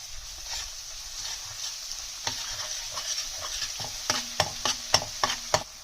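Chutney fries in hot oil in a kadhai over a low flame, a steady close sizzle with stirring scrapes and sharp clicks growing more frequent toward the end; no one talks.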